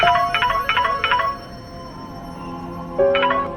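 A telephone rings with a repeating electronic ringtone in quick bursts, pausing briefly before another burst starts, loud and close with no talking.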